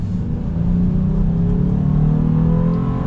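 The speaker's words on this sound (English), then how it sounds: "let's get our full-blown acceleration here with the Ridgeline." A lifted Honda Ridgeline Sport mid-size truck accelerates hard, its engine a loud, steady rising drone that builds through the gears, heard from inside the cab with no talk.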